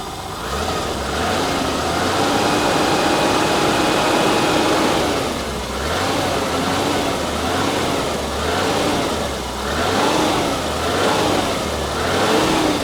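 A BMW engine revs up and down in repeated rising and falling surges, loud and close, over a continuous rumbling idle.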